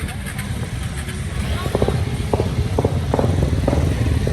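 Motorcycles of an Easter rally in Helambu pass close by, engines droning and revving in a few short bursts over a rumbling crowd background with voices.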